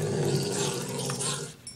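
A dog growls in a survival video game, a low continuous rumble under busy game noise, steady and fairly loud for under two seconds.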